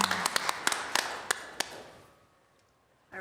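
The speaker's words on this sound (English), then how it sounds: "Can we have a round of applause for Cyrus and Iman" An audience at a budget committee hearing applauds two student speakers. A busy burst of claps with a few sharp standouts fades out within about two seconds, leaving near silence and then a soft sound at the end.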